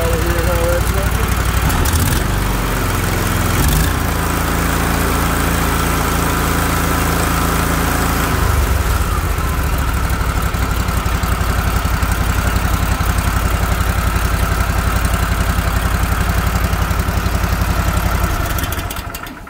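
Walker MCGHS riding mower repowered with a Chinese Lifan 24 HP V-twin engine runs steadily and loud from start to finish, a low droning engine note with a brief shift in pitch early on.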